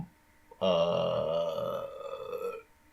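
A long, deep, drawn-out burp, loud and close, lasting about two seconds before trailing off into quiet.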